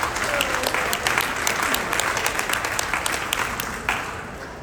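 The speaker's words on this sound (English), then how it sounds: "So let's give them all a round of applause" Loud, lively applause from a convention crowd at the opening speech of the ANA World's Fair of Money in Chicago 2024, with dense close clapping that carries on steadily and eases slightly toward the end.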